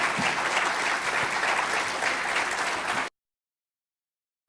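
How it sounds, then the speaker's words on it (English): A housing summit audience applauds its panel, with loud, dense clapping from a crowd that runs for about three seconds and then cuts off abruptly into silence. "Can we all get a round of applause for our panel?"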